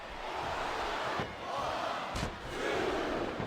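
A video-game arena crowd from WWE 2007 roars and chants in a steady wash of noise, with a couple of sharp slam-like hits breaking through.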